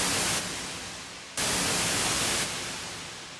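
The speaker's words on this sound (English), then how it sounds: "basically it's just white noise and it's being automated here." Steady hissing white noise plays alone, with its tone and loudness shifting in abrupt steps and a sharp jump about a third of the way through.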